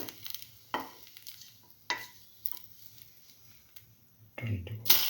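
Chili ginger garlic French toast frying in a pan, a quiet steady sizzle broken by a few sharp utensil taps and scrapes, with a louder clatter near the end; a voice speaks briefly.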